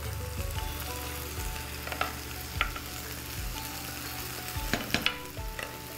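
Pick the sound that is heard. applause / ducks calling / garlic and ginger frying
garlic and ginger frying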